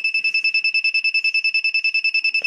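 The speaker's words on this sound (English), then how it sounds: "my little buzzer module here already started buzzing" A piezo buzzer beeps in a rapid, steady stream of short, shrill tones, loud and close, with no voices.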